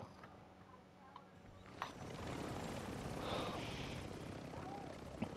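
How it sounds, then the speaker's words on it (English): A helicopter in the Call of Duty video game drones steadily through the clip, a continuous rotor rumble at moderate level with a few brief knocks and clicks on top. "Don't want to lose the helicopter."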